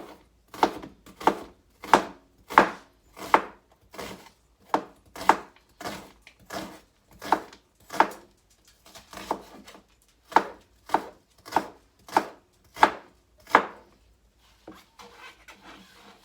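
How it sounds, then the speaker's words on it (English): A knife slices an onion thinly on a cutting board, a steady series of crisp, evenly spaced chops close to the listener, each separated by a short quiet gap. "So just gonna slice up the onion"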